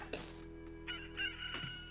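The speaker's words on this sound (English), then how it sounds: "Cock-a-doodle-doo." A rooster crows in a drawn-out cock-a-doodle-doo over a steady low background hum, moderately loud and alone without talk.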